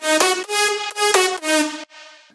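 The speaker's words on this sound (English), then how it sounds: "So here's what all the lead layers sound like together." Bright layered saw synth lead from a remake, playing four sustained, buzzy stacked notes in a rhythmic phrase, then a softer thinner tail note at the end, loud and up front with no talk.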